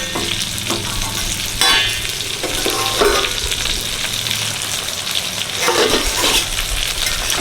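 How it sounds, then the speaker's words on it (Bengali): Brinjal (eggplant) pieces frying in a pan of hot oil give a steady close sizzle through the whole stretch, with a few louder crackling bursts and light scraping as they are turned. "এদিকে বেগুন ভাজা চলছে"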